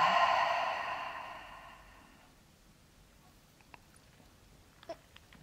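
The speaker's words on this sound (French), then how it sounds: "J'expire." One long, breathy exhale through the mouth during a breathing exercise, loud at first and fading over about two seconds into near silence broken by a few faint clicks.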